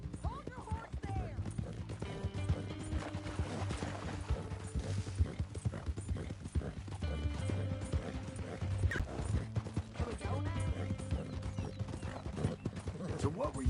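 Steady clip-clopping horse hooves in Red Dead Redemption 2 carry on throughout, with an occasional horse whinny and background music and voices mixed in.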